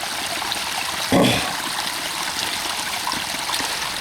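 Water pours out strongly in a steady, broad rushing flow, close by, with a brief louder gush about a second in and no speech.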